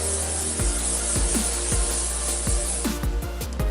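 A steady hissing spray from an aerosol deodorant can lasting a couple of seconds, with soft rhythmic knocks and rubbing underneath, close by.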